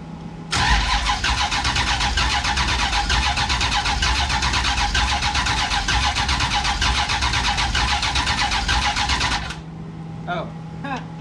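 Big block Dodge Duster engine cranks and runs at half throttle, a loud steady broadband roar held for about nine seconds before cutting off abruptly, followed by faint voices.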